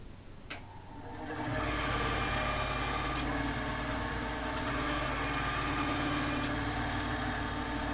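Bandsaw cutting metal stock in a workshop, a steady motor hum overlaid by two stretches of high, shrill blade whine as the saw bites into the metal, close and fairly loud.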